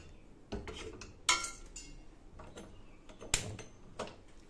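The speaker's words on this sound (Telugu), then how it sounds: "ఇప్పుడు స్టవ్ ఆన్ చేసుకోండి." A gas stove is switched on in a home kitchen while masala peanuts are being made, giving a few sharp, quiet clicks spaced apart, with no talking.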